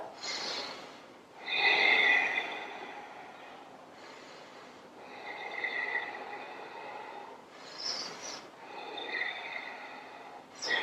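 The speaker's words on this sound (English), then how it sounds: "take some deep breaths here" Slow, deep yoga breaths during a Hatha flow, a series of long airy inhales and exhales through the nose, close and fairly loud, with short pauses between them and no speech.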